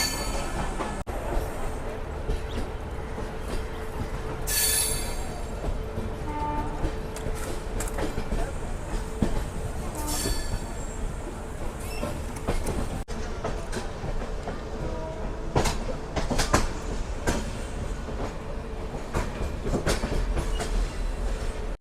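Passenger train running on rails after leaving New Delhi, heard from inside a general coach as a steady loud rumble with rhythmic clickety-clack, occasional squeals and bangs, and murmuring passengers.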